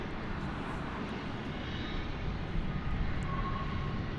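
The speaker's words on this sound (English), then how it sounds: "Well, that plane was going to Austin, American Flight 1828, 737-800." An American Airlines Boeing 737-800 roars steadily on departure from DFW airport at night, a broad sustained jet engine rush, loud and continuous with no talking.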